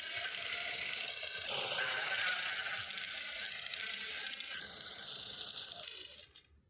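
A sewing machine runs a single straight stitch line on a duffle bag project, its fast mechanical needle chatter steady and close for several seconds before cutting off.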